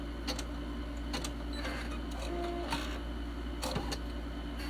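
A sewing machine runs a single line of stitching down and back on a credit card holder, a soft continuous whirring punctuated by faint ticking and clicks, quiet and close with no talking.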